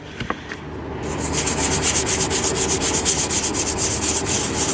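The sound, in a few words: sanding old Napa body filler on GMC K1500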